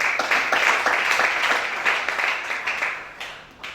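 A church congregation applauds steadily and loudly through the whole stretch, dense clapping fading slightly toward the end.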